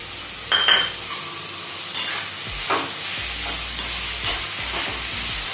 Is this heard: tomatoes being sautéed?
yes